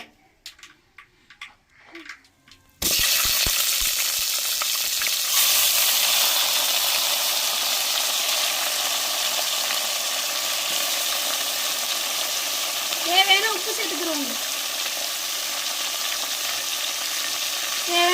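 A loud, steady sizzle of chicken frying in a hot pan bursts in after a few seconds of quiet clinks, continuing with occasional stirring scrapes.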